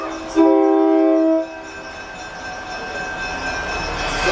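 A museum train with a transfer caboose gives a loud horn blast of about one second, then its steady rumble carries on as it pulls away.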